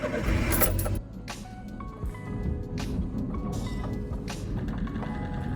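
A Suzuki Carry DA63T kei truck crawling in 4L over a rough rocky road, a steady low engine hum with rattling and knocking of the body over rocks, no talk.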